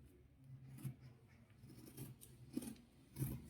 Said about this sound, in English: the next thing is for us to cut